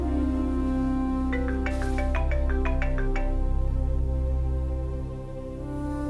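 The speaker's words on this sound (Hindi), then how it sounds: "गुलाम, इस फोन को उठा ले, मेरे सर में दर्द हो रही।" A phone ringtone chirps in a quick series of bright repeated tones over a steady low background hum, then falls quiet.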